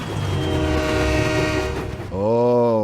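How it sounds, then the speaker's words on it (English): Diesel, the engine in Thomas & Friends, sounds a generic American air horn: a loud, chordal blast that cuts in abruptly after a stretch of rumbling engine noise and holds steady to the end. "this weird period when Diesel had a generic American air horn"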